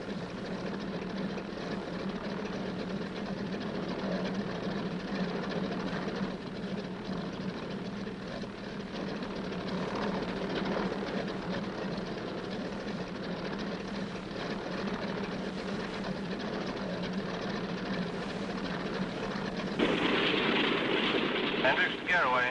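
Aircraft engines run up for takeoff with a steady, loud droning roar that holds throughout and swells near the end, voices faintly present underneath.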